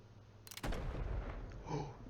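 A single loud gunshot in the Telltale Batman video game, a sharp sudden crack followed by a booming low rumble that lingers and fades over the following seconds.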